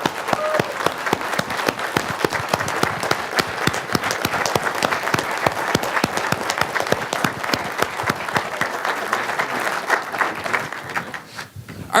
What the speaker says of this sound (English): So one more round of applause for these folks.